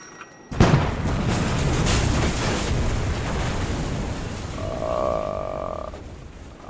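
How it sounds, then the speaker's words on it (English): A huge dynamite explosion in the video game Kona bursts in abruptly after a moment of quiet, then a loud, sustained rumbling roar with debris-like crackle carries on for several seconds, no voices. "I was not expecting it to be that big of an explosion."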